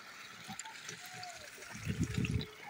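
Water pours from a 2-litre bottle as a soft, fairly faint gurgling trickle that swells into a fuller splashing pour near the end.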